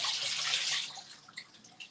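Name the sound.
water running from a kitchen tap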